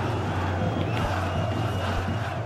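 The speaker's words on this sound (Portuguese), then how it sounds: "Vamos lá então que a torcida tá chegando junto no Moisés Lucarelli." Stadium crowd noise in PES 2021 at the Moisés Lucarelli ground: a steady, dense roar of supporters cheering and chanting, continuous and loud throughout with no clear talk.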